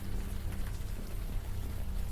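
Steady warm rain pouring down in the video game Unavowed, a dense continuous hiss of drops filling the scene at an even level with no pauses or voices.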